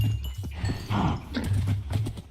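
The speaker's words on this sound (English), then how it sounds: "I'm riding a horse, feeding the cows." Horse hooves clip-clop in Minecraft as the player rides, a quick, steady run of close, soft knocks with no talking.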